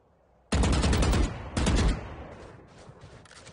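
Gunfire in the tactical shooter Valorant: a loud, close burst of rapid automatic shots for about a second, then a second short burst, fading into quieter distant shots and game ambience.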